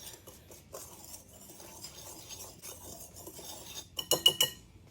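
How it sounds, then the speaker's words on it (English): A whisk scrapes and ticks against a bowl, mixing flour, brown sugar, ground cinnamon and salt; soft, steady stirring that turns into a quick run of louder clinks at the end. "Going to whisk the dry ingredients together till they're well combined."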